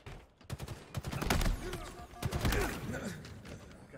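Gunfire in Halo Infinite during a capture-the-flag match on Aquarius, rapid bursts of shots layered with game effects and a player's voice, fairly loud and dense.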